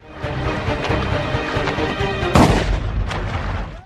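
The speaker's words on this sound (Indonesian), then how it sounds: "sebuah peluru bersarang di tubuh Mary hingga membuatnya ngambang tak berdaya" A single gunshot cracks out sharply in a film scene set in a forest river, cutting through a dense, rumbling action soundtrack before a lingering reverberant tail.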